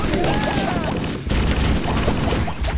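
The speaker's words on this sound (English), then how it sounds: "What the bloody hell are you shooting at me?" Continuous chaotic gunfire in the Halo video game, steady and fairly loud throughout with a brief dip midway, layered with other game effects and some talking.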